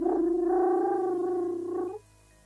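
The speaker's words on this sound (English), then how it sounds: "She's making little chirping noises." A pet cat gives a short run of soft, purring chirps and trills, close and clear, holding steady for about two seconds before fading out; no one speaks over it.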